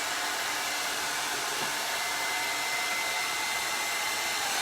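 A hair dryer brush runs steadily while drying hair, a continuous loud broadband whoosh of blowing air that holds even from start to finish with no talking over it.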